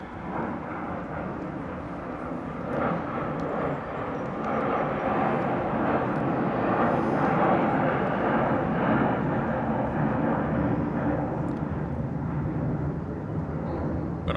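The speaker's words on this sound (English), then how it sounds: "The same airplanes were flying." Airplanes fly over an outdoor gathering, a steady, broad jet-engine roar that swells toward the middle and eases off again, with no talk over it.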